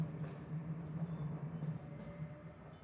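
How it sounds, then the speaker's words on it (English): A Kyoto Randen tram rolls past a station beside the depot, a steady low rumble of wheels and motor that holds at moderate level throughout, with no voices. "filmed the trams going past the station next to the depot."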